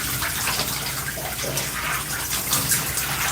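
Hair clips rinsed under a running tap, a continuous close rush of water with slight splashing variations and no speech.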